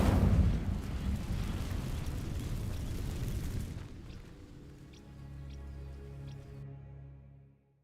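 Incendio fire spell setting dry vines ablaze in Hogwarts Legacy, a loud roaring burst of flame that crackles for several seconds, then drops to a low rumbling hum with a few faint ticks.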